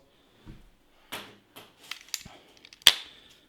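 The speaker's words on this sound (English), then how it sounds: "it's a quick release basically adapter for this thing. So bam, I can take it off." A quick release red dot adapter comes off a paintball rifle with a Tiberius T9.1 pistol-to-rifle conversion, producing close, dry plastic and metal clicks and rattles ending in one sharp loud snap.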